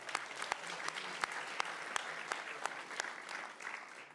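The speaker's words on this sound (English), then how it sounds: "Let's give them all another big round of applause." Sustained audience applause at a press club spelling bee event, steady dense clapping with sharp individual claps standing out, moderately faint and continuous throughout.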